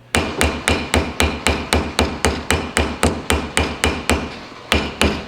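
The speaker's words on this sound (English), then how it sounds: "I use the actual ball part to peen it over, round it out, get rid of all of the rough edges" A ball-peen hammer peens a rivet over a washer, striking in a steady run of about twenty sharp, close, loud metallic blows at an even rhythm.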